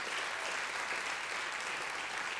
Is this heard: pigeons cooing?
no